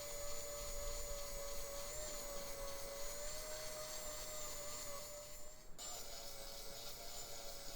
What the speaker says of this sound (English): Here I just go over some of the spots where it's not as close as I wanted to the line with the spindle sander.